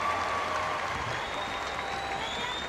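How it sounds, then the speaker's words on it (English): Spectators applaud steadily at a women's hockey match between New Zealand and the USA, a dense, even patter of clapping that holds for a few seconds without letting up. "the crowd are appreciating the efforts of the New Zealand #9"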